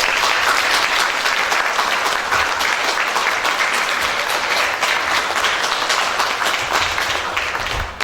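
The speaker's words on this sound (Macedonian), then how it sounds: "Ве молам со голем аплауз да ја честитаме наградата" Dense, sustained audience applause fills a poetry award ceremony for the Danica Ručigaj award in Skopje, holding steady and loud throughout before easing slightly at the end.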